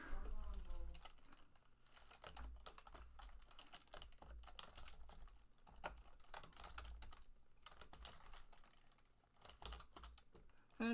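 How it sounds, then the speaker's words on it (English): Steady bursts of close keystrokes as code is typed on a computer keyboard, quick uneven clicking runs broken by short pauses, with someone talking quietly over parts of it. "if I'm testing a line of code, I can just type it in there"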